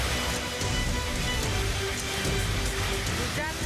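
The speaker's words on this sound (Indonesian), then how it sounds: "Hujan es yang disertai hujan deras dan angin kencang membuat warga sekitar histeris hingga viral" Hailstorm with heavy rain and strong wind in Majalengka, West Java: dense, continuous loud pelting and hissing of falling ice and water on surfaces, with faint voices mixed in.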